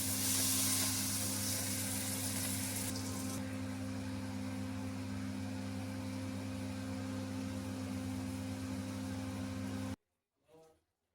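Lote (Bombay duck) fish sizzling in hot spiced oil, a loud dense hiss that flares at first and then settles into a steady frying roar with a low hum beneath, ending abruptly.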